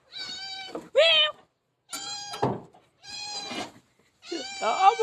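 Four drawn-out, wavering meows from a cat, each about a second long and spaced by short pauses, fairly close and clear.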